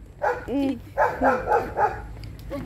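A dog lets out a run of short, close, high yipping barks in quick succession over a faint background hum.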